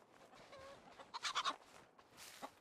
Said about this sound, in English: Oh, angry chickens.